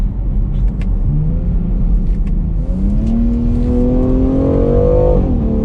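A 2021 BMW X3 M Competition SUV accelerates hard out of a left-hand turn, its exhaust note rising steadily in pitch through a gear, loud and close inside the cabin over a constant road rumble, then dropping at a shift.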